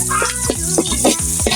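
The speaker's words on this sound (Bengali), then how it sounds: "এখন এগুলো ভেজে নিব" Onion and chili frying in a pan for a potato curry, a steady close sizzle broken by a few soft stirring scrapes, with no talk.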